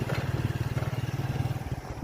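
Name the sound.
riding a motorcycle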